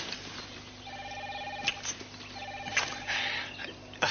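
Telephone ringing in repeated electronic bursts of steady tones, moderately loud and near, with brief clicks and soft background noise between rings.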